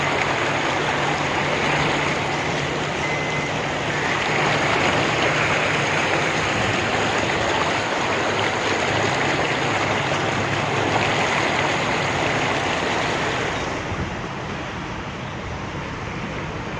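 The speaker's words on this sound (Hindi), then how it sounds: "बहुत पानी है यार इतना तेज" Loud, steady rush of fast-flowing floodwater in heavy rain in Lahore, a dense continuous roar that barely lets up, slightly quieter near the end.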